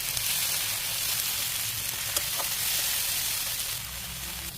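Ground paste of green chilli, dried chilli, tomato, nuts, ginger and garlic hissing in hot oil for prawn malaikari, a steady broadband sizzle that eases slightly near the end.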